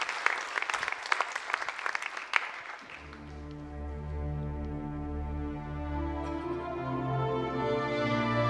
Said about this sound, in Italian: l'applauso del pubblico del Teatro Civico